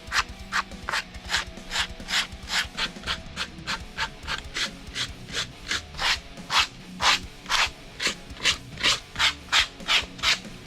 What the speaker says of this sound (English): Now we're gonna take a 120 grit sandpaper, very lightly scuff the body to give it wear effects.